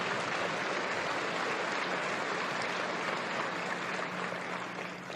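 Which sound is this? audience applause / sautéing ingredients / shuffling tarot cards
audience applause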